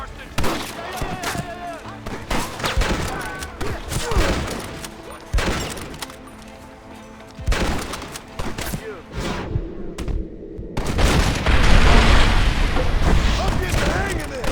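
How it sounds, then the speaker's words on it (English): Gatling gun fire in the video game Red Dead Redemption rattles in long rapid bursts broken by brief pauses, with heavy booms and game voices calling out over the loud gunfire. "You man the Gatling gun, Marston!"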